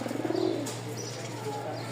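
Steady cooing from a Giribaz pigeon of the Rajshahi line, a male calling without pause, close by over a low constant hum.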